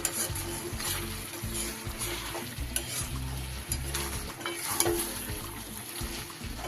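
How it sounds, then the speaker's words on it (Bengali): Fried onion and tomato are stirred into chicken in a pan for chicken do pyaza, giving a loud, close sizzle with rhythmic scraping strokes of the spoon throughout. "এবার এর উপরে আমি পেঁয়াজ আর টমেটোর ভাজাটা দিয়ে দেব। খুব ভালো করে মিশিয়ে নিচ্ছি।"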